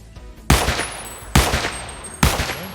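Three loud gunshots from a gamepass weapon in Roblox Redwood Prison, fired at a steady spaced rhythm with sharp attacks and short decaying tails, close and clear, no talking.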